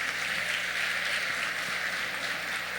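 A church congregation applauding during a women's conference service, a steady wash of many hands clapping at moderate distance, fairly soft and even throughout.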